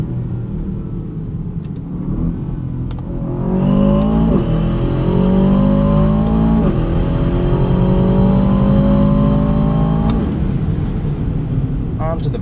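A 2024 Aston Martin DBX 707 SUV with its 697 hp AMG-powered engine accelerates hard, its loud rising drone climbing through gear changes in a near, continuous surge, with someone talking over it.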